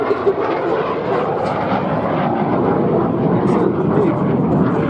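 Hawker Hunter T7 jet flying a display at the Duxford airshow in the UK in September 2014, giving a steady, loud broadband roar throughout with someone talking over it.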